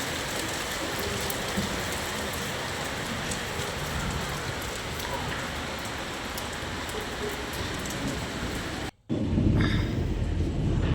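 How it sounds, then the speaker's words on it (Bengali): Heavy rain driven by wind pours steadily and loudly as a dense roaring wash, briefly cut off near the end before resuming even stronger; no distinct thunder stands out. "যেরকম বৃষ্টি সেরকম হাওয়া, তেমন মেঘ ডাকছে"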